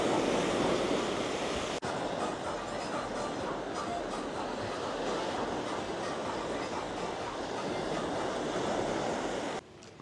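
Surf rolls onto Tautira beach in Tahiti, a continuous broad wash of breaking waves close by that holds steady the whole time, with a voice talking faintly underneath.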